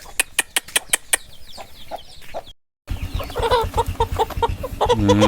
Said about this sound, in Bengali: এটা হচ্ছে জুটিওয়ালা লাল মুরগিটা